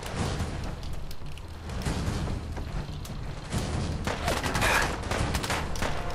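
Sustained gunfire in Fallout 4: Far Harbor, a dense distant-sounding volley of shots rolling on steadily, with a few louder cracks toward the end and no talk.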